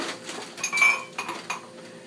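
Vegetables and sauce being stir-fried in a pan for mapo tofu, heard as several close, quick metallic clinks and scrapes of a utensil against the pan in an uneven rhythm.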